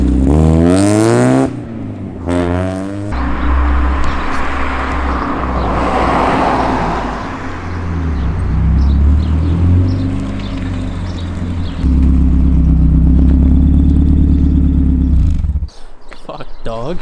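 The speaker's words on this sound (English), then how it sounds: "No one wants to fucking hear your exhaust, man." A Mazda Miata with a loud aftermarket exhaust and intake revs hard in repeated bursts, deep and close, with a long sustained drone near the end, while people talk over it.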